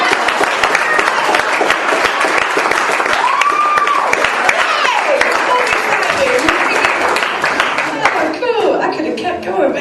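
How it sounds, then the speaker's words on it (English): An audience bursts into loud, sustained applause after a spoken word poetry performance, thick clapping with whoops and chatter threaded through it, tapering slightly at the close. "yay for the applause"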